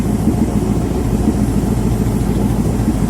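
A 1957 Ford Fairlane 500 Skyliner engine idles through an aftermarket exhaust with a deep, rumbling note, steady and loud and close, with no voices.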